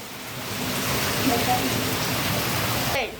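Heavy rain pours off roof eaves during a thunderstorm in a small village, a loud, steady, dense rush of falling water close by that cuts off abruptly near the end.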